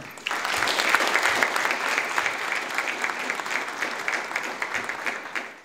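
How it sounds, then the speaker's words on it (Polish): A hall full of people at a university academic-year inauguration ceremony breaks into sustained, loud applause, steady and even throughout, with no talking over it. "Wielkie brawa dla was."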